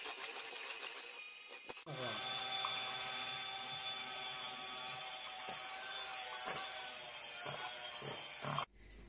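An electric hand mixer whips cream while boiled condensed milk is added for a cake frosting. It makes a steady, loud motor whir that runs almost unbroken from about two seconds in until near the end, with no talking.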